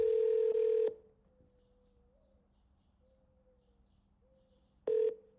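An auto-dialer sends a steady telephone tone that cuts off, followed by quiet ringback-like tones and a second short burst of tone near the end.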